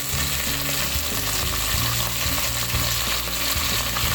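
Chopped tomato and green siling espada chili sautéing in oil in a pan in Cebu, a dense, continuous close sizzle with steady frying crackle and no voices.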